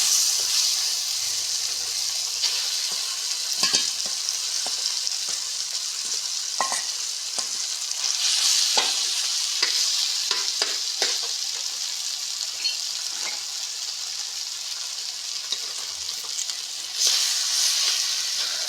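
Potatoes are stirred into a sizzling tempering in a pan for papad dosa, with a steady hiss of frying and irregular scraping stir strokes close by. No one speaks.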